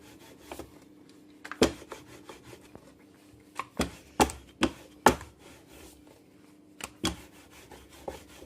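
A knife cuts through a stack of cooked samosa pastry sheets on a board, with scattered sharp chopping taps and soft rubbing scrapes, irregular and close, without speech.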